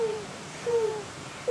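A voice imitates an owl, giving a few soft, breathy hoots in a quiet outdoor setting, with short pauses between them.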